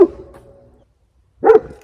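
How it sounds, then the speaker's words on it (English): A dog gives two loud barks close by on a homestead with sawmill offcuts and firewood storage, separated by a short silence. "I don't think he's gonna stop barking."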